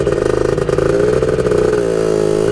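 An engine revs hard at full throttle, close and loud, its rapid pulsing firing rhythm holding a high steady pitch with a clattery edge.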